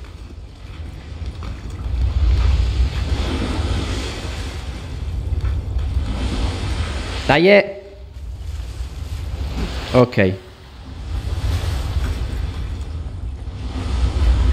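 Steady, full rushing roar of waterfalls beneath Boston in the video game Assassin's Creed 3 Remastered, with someone speaking briefly over it and a couple of short sharp game effects partway through.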